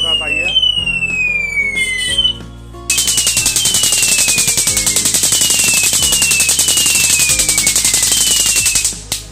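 A rising electronic whine gives way to a loud, relentless burst of rapid crackling pops from an electronic firecracker string with LED lights and remote, going off nonstop.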